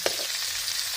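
Chopped onions frying in a pan, a steady soft sizzle with a brief stirring clatter at the start, close and fairly quiet.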